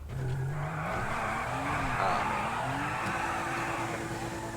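An Ubermacht Sentinel XS in GTA 5 Online drifts with a continuous tire squeal over a buzzing engine note that wavers in pitch, steady and fairly quiet throughout.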